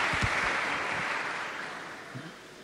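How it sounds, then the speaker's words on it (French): An audience claps at a church service, with dense, steady applause that slowly fades over a few seconds, alone and without talking. "Vous pouvez vraiment applaudir pour nous-mêmes."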